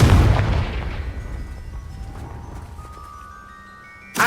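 Loud, close blast of a Confringo fire spell in Hogwarts Legacy, a heavy boom that decays over several seconds before a second burst starts at the end.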